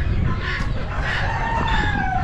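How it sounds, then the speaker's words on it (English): Chickens clucking and a rooster crowing amid the steady background din of a livestock auction, with several overlapping calls from nearby birds over about two seconds. "And a couple chickens."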